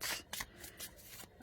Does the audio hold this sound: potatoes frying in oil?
no